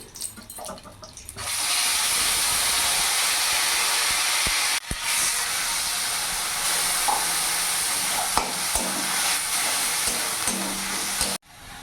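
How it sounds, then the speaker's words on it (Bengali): Spice paste hits hot oil for a katla fish curry, bursting into a loud, steady sizzle after a short quiet start, with a brief break midway and a couple of stirring clicks. "এখানে যে মশলাটা আমি পেস্ট করে রেখেছি, ওই মশলাটা আমি এখন দিয়ে দেবো"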